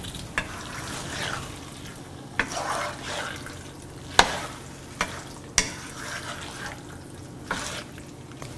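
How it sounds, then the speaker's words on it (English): Chicken curry sautéing with lemon juice in a pan, a quiet steady sizzle broken by occasional sharp clinks and scrapes of stirring. "squeeze some lemon juice into this and saute for 3 to 5 minutes"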